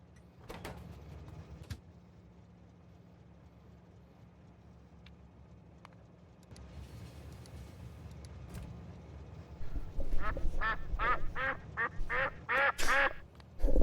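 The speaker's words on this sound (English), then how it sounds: "I swear I did actually hear a duck, though." A duck quacks in a rapid run of loud, nasal calls near the end, after a stretch of quiet low hum, a few soft knocks and some background noise.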